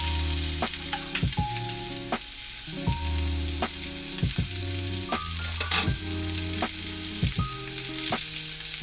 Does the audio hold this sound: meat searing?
yes